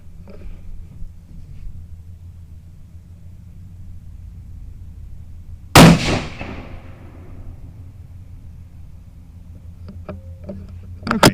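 A single sharp, loud rifle shot cracks out midway, fired from a rifle fitted with a Gunnr Odin 1-10 optic, and its echo decays over a couple of seconds against quiet outdoor ambience, with faint clicks near the end.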